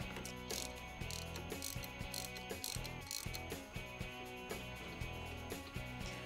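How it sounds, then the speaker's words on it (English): A ratchet socket wrench with a 21 mm spark plug socket works loose the spark plug on an HS720 snow thrower, giving quick repeated close clicking strokes throughout, with no talk. "use a 21 millimeter spark plug socket to remove the spark plug"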